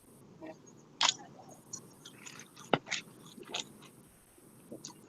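Someone bites into an apple and chews it with crisp, irregular crunches close to the mic, scattered sharp bites over a quiet room background.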